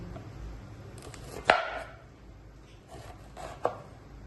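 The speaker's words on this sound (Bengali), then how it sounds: "দেশি কাঁকরোল দিব, তাই কেটে নিচ্ছি" A knife slicing through a native spiny gourd (kakrol), giving a few sharp separate cuts, the clearest near the start and another a couple of seconds later, over a quiet background.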